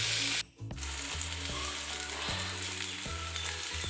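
Pineapple pieces fry in hot ghee with a dense, steady sizzle close up, briefly interrupted once before the crackling hiss resumes and continues evenly.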